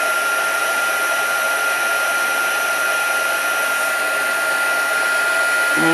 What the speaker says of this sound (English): Always heat your heat tool before you